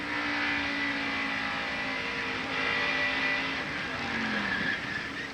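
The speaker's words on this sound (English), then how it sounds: "Now the real-time in-car camera shot from Ernie." Race car engine heard from an in-car camera during a 1990 NASCAR race, holding a loud, steady drone through a corner, with a brief tire chirp or skid near the end.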